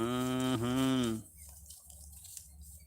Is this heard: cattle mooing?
yes